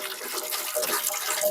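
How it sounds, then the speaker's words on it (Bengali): Rose water being poured into a biryani juice mixture, a steady close splashing pour that runs continuously for a second or two, fairly loud and with no voices. "দিয়ে দেবো গোলাপ জল"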